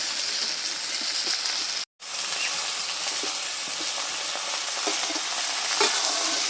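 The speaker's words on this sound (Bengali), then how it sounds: "এভাবে একটু নেড়ে চেড়ে নিচ্ছি তরুলটা দিয়ে" Tarul and potatoes fry in a pan, a steady close hiss with occasional scrapes of a spatula as they are stirred, interrupted by one brief dropout near the two-second mark; no speech.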